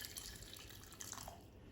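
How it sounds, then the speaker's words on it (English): Boiling water from a kettle pours steadily into the jug of a Ninja soup maker for lentil and ham soup, a close, continuous splashing trickle that runs unbroken from start to finish without any talk over it. "I'm just going to add the boiling water directly from the kettle, like that"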